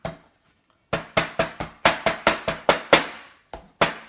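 Sharp cracking knocks on crab legs while cleaning crab: about a dozen hard, close impacts in an uneven rhythm after a quiet start, some in quick pairs, with no talk.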